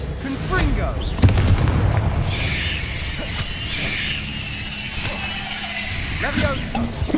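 Confringo fire spell blasts in the Hogwarts Legacy video game: booming, bursting impacts with whooshing tails over layered battle effects, while a voice calls out over the action.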